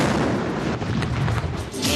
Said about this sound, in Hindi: दिन का आगाज वफाकी और सूबाई दारुल हुकूमतों में तोपों की सलामी के साथ किया गया।